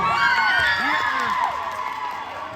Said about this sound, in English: One more round of applause for all of the teachers here today.